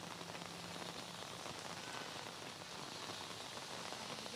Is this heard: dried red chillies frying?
no